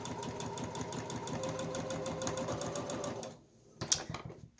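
A sewing machine stitches fabric for a decorative pillow cover in a fast, steady mechanical run for about three seconds, then stops, followed by a brief sharp click.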